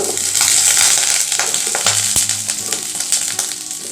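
Garlic, onion and asafoetida sizzle steadily in hot oil for a tomato chutney, a dense continuous frying crackle with occasional stirring scrapes and clicks, close and fairly loud with no talking.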